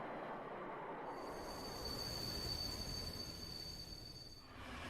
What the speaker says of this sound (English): The Pearl River Source high-speed train